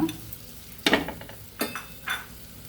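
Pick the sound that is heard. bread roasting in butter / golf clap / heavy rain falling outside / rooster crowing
bread roasting in butter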